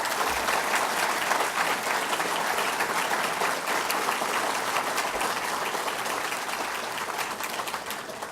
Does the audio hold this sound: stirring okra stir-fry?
no